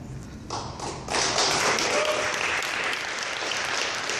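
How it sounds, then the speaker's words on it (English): Audience applause at a gathering about the Unist'ot'en Camp, swelling after a second into steady, dense clapping that carries on to the end. "Please don't clap, don't clap"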